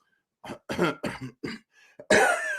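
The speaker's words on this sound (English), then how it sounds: "Still have that post-nasal drip cough thing going on." A string of throaty post-nasal drip coughs and throat clearing, four or five short bursts, ending in a longer strained, voiced cough, close and fairly loud.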